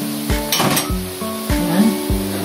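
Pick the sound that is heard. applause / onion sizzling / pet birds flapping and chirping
onion sizzling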